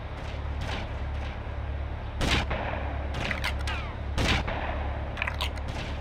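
Sniper gunfire in the video game GTA Vice City Stories, two loud distinct shots about two seconds apart over a constant rumbling game background, with fainter crackling bursts between them.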